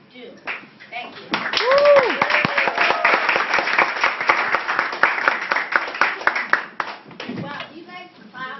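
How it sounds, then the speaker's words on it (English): Audience applause and clapping at a school parent center meeting, a loud sustained burst of many hands clapping for several seconds with voices mixed in before and after, then tapering off. "do you guys clap for someone who speaks to another person that way?"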